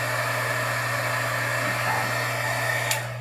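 Heat embossing gun blowing hot air over a craft frame border, a steady close whirring hiss that runs continuously with no talking.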